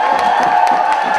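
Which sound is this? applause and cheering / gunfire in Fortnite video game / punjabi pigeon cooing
applause and cheering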